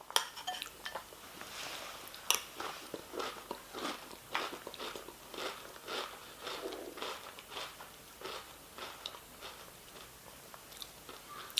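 Someone eats Harvest Morn honey nut pillows cereal from a bowl, loud close crunching and chewing repeated in a steady rhythm, with a few sharp clinks of a spoon against the dish and no talking.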